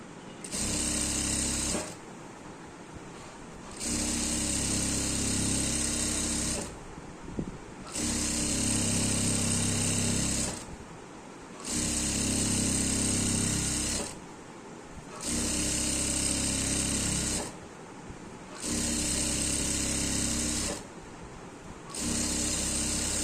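A sewing machine double-stitches elastic into a salwar. It makes loud, steady mechanical whirring runs of two to four seconds each, with six runs separated by short pauses.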